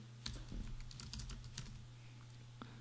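Quick bursts of keys clattering on a computer keyboard while a header is typed into an Excel spreadsheet cell, close and quiet over a steady low electrical hum, ending with a single later keystroke.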